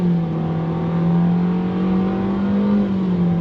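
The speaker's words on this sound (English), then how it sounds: "with that inline 4-cylinder engine, we're going to go on throttle here" A 2023 Nissan Versa SR with an inline four-cylinder engine and front-wheel drive accelerating on throttle, a steady loud engine drone that climbs slightly in pitch, heard from inside the car with no talk.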